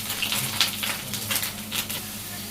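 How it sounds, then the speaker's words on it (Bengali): Spices being fried and stirred in a pan for a Bangladeshi home-cooked dish, a steady close sizzle with scraping stir strokes and a low background hum. "মশলাটা ভালোভাবে কষিয়ে নিই।"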